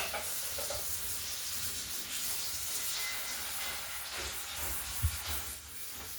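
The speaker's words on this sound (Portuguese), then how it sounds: "Agora tá caindo aqui" Constant sizzling and hissing as bean water from a pressure cooker boils over onto a hot wood-fired stovetop, with a brief clunk near the end.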